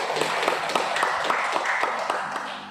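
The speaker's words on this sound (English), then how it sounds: "We give applause to both teams." A small audience at a school debate competition claps in a steady, moderately loud round of applause for both teams, with no voices over it.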